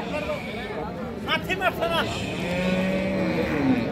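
Cows moo at a busy livestock market where cows with calves are sold, several drawn-out calls under nearby voices and crowd chatter.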